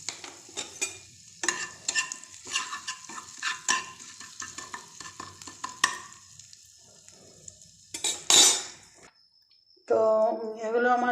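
Asafoetida going into a hot pan for tempering, with a metal spatula scraping and clinking against the pan in quick irregular strokes over a light sizzle, close up; near the end a burst of crackle and then a voice.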